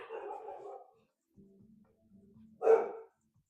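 A dog gives one sharp, close bark after some low, quiet noises, with a brief murmur of voice at the start.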